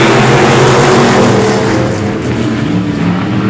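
Race cars at I-37 Speedway roaring together at the green flag start, a loud dense engine drone accelerating from the field, with no voices over it.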